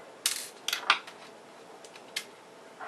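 A screw comes out of a fan-less industrial computer case in a few short, sharp metallic clicks and scrapes, close and fairly faint, with quiet gaps between them.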